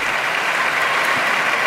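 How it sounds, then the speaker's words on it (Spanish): Attendees give a round of applause for a speech, heard as a brief, loud, continuous burst of crowd clapping with no voices over it. "otro minuto más de aplausos."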